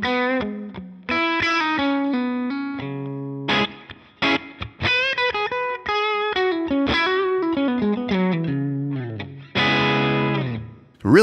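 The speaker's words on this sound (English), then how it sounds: "So playing this tone with my Vigier Expert Strat-style guitar" Distorted electric guitar, a Vigier Expert Strat-style guitar through a Helix amp modeler, playing a run of notes and chords with a driven amp tone and light reverb, loud and continuous with short gaps.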